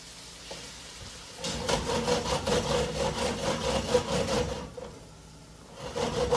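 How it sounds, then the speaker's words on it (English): Peeled, seeded tomato is dropped into a hot paella pan for lamb paella and sizzles in a loud close crackle, with stirring scrapes, before easing off and rising again. "Now I'm going to add the tomato. And we're just going to let that cook until it's just about dry."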